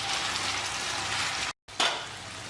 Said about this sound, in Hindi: अब इसे हम बढ़िया 5 से 7 मिनट बढ़िया तेज़ आंच पे भून लेते हैं